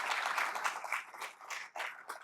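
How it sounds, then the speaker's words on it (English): Applause from an audience at a campaign kickoff event, a steady wash of clapping that thins out and returns in a few bursts toward the end. "Please give them another round of applause."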